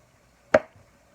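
A single sharp knife chop through food on a cutting board, one brief close thud and crack standing alone in a quiet kitchen.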